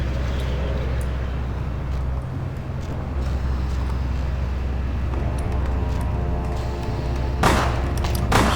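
Gunfire in the video game Vampire The Masquerade Bloodlines: scattered shots over a steady low rumble of game ambience, with a sharper, louder burst near the end.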